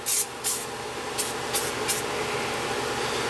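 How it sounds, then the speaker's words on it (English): CRC rust converter foam sprayed from an aerosol can onto a vehicle's rusty cab supports: five short, loud hissing bursts close by, followed by a steady hiss. "And you just spray it on."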